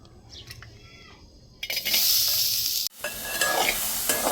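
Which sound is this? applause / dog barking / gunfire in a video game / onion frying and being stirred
onion frying and being stirred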